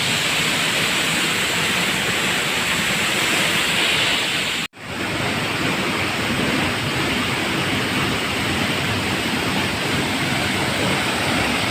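Marangig Falls in Maragusan, Davao de Oro, a spring-fed waterfall whose steady broadband rush of falling water fills the scene at close range, unbroken apart from one momentary dropout, with no voices.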